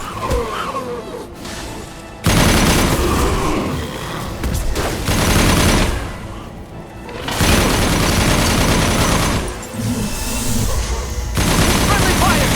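Gunfire in the video game Mass Effect 2, sustained and loud bursts of shooting with blasts running through most of the stretch, broken by brief lulls, with voices mixed in.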